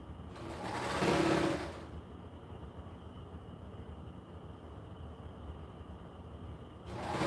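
Baby Lock Evolution serger running in a short loud burst near the start, then a quieter steady background hum with another burst beginning at the end; no talking.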